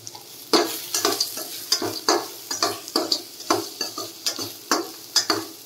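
Onions with sevai being sautéed in a pan, with repeated rhythmic scraping strokes of a spatula over a soft frying sizzle, close and clear, about two strokes a second, with no voices.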